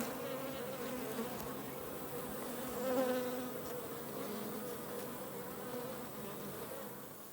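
Honeybees in a Layens hive during requeening, a close, continuous buzzing hum with a brief swell in intensity partway through.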